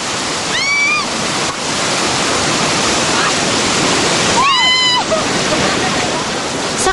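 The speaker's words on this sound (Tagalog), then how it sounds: "magpapaliko-liko ang mga adventurer sa rumaragasang tubig sa ilog" Loud, continuous roar of rushing whitewater on a river used for whitewater tubing in Sarangani, a steady close-up broadband wash with two brief whistle-like calls cutting through.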